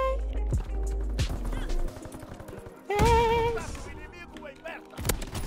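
Bolt-action sniper rifle shots ring out in the Call of Duty WW2 video game, with a few sharp blasts among in-game effects, while a player talks over the action.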